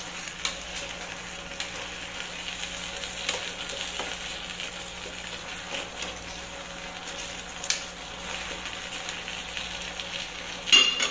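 Okra frying in a pan gives a soft, steady sizzle while a utensil stirs it with occasional light scrapes, quiet and close, with no talking.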